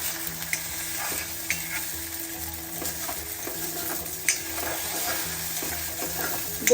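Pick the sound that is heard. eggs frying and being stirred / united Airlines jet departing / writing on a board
eggs frying and being stirred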